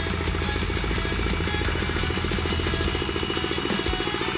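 A small water-cooled mini tractor built from a walk-behind tractor pulls a single-row factory potato planter, its engine running at a steady, loud, continuous chug throughout.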